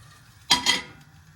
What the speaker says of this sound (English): Mix the kale with the butternut squash.